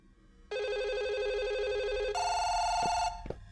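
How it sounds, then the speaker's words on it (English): In a Chinese horror video game, a telephone bell rings loud and steady, holding one electronic tone and then jumping to a higher pitch, ending with a couple of sharp clicks. No one speaks. "Well, where is the phone ringing?"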